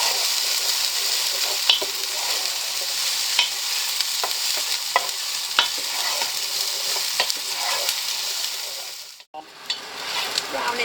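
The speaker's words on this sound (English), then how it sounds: "Browning off nicely, getting ready to add my peppers and mushrooms." Chopped onions and celery fry in a pan for gumbo, giving a loud, steady sizzle broken by frequent scraping clicks of stirring, close and continuous until a brief break near the end.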